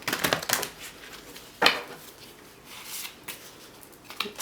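A deck of goddess oracle cards shuffled by hand, a flurry of crisp card slaps at the start followed by a few separate riffles and taps, close and fairly soft.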